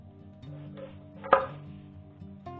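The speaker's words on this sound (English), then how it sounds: "I cut these in about 2-inch segments" A knife cuts rosemary sprigs into segments about two inches long for a slow-roasted Boston butt, giving one sharp, close chop over a quiet background with faint handling noises around it.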